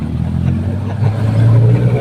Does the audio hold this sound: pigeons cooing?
no